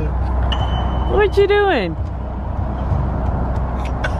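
A car's engine and road noise hum steadily from inside the vehicle as it drives, with a short spoken voice briefly rising over the drone.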